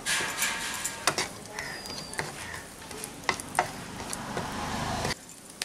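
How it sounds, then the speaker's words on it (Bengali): Raisins and cashews fry in leftover oil, making a steady close sizzle broken by sharp clicks of a stirring spoon. The sizzle drops off abruptly near the end. "এখন আমি এই বাদবাকি তেলের মধ্যে একটু এই কিশমিশ আর কাজুটাকে ভেজে নেব"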